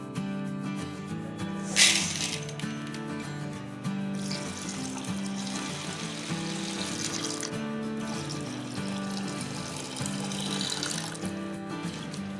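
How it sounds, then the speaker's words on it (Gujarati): Lentils for Gujarati vedmi (puran poli) are rinsed under running water, a steady splashing, trickling wash from a tap into a vessel that continues throughout, with faint tonal background sound underneath. "દાળને બરાબર પાણીથી ધોઈને 10 મિનિટ માટે પલાળી રાખશું"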